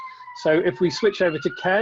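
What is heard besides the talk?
police siren in the background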